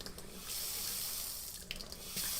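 Water runs from a kitchen faucet with a single handle and a detachable sprayer, a steady hiss of flow into the sink, close and continuous, with slight shifts in the stream.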